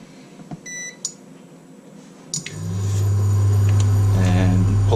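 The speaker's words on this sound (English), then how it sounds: "And apologies for the noise, but I want a bit of a higher heat, so I'm using this induction heater." An induction heater under a wok gives a few short beeps, then starts a loud, steady electrical hum and whine that keeps going as food is smoked in a home kitchen.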